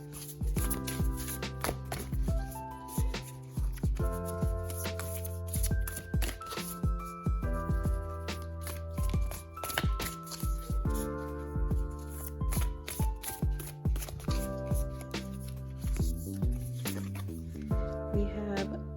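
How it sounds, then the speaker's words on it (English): Oracle cards being shuffled by hand, a steady run of quick riffling slaps over a continuous music bed throughout. "I'm going to shuffle them and we will pull the first"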